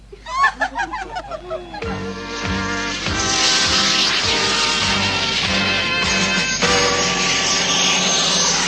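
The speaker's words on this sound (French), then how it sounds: "Roger, rangez votre avion sur la plateforme 504." Animated aircraft setting down at a base to park on a landing platform, a loud sustained roaring engine wash with rising whine and low rumbles building and holding steady after a few brief opening chirps.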